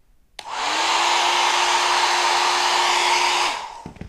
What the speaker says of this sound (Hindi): मेरे ट्रस्टी हेयर ड्रायर से अभी ये फ़िलहाल